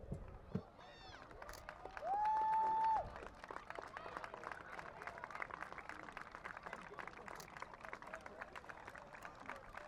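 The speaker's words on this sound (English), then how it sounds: "Let's have a nice round of applause and congratulations to our 2 senior football players" Crowd applause for two senior players at a varsity high school football senior night, a broad steady patter of distant clapping filling the stands, with a brief whistle-like tone and crowd murmur.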